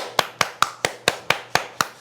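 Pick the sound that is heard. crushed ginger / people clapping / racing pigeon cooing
people clapping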